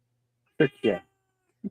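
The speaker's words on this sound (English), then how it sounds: "And that's my cat" A pet cat named Ariel meows twice in quick succession, close and clear, then gives a short third chirp, with a person speaking briefly around the calls.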